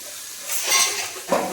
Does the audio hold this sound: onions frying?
yes